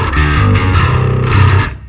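Distorted bass guitar picked with a pick, playing a riff on a four-string bass, a gritty sustained tone with steady repeated notes that fade out at the end.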